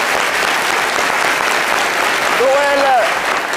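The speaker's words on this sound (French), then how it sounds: "Ça s'applaudit ce retour." A studio audience applauds on a French midday TV show as a crooner returns, with loud, steady, dense clapping throughout. A brief voice or whoop rises above it near the end.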